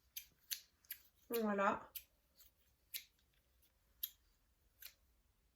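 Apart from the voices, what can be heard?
craft scissors being handled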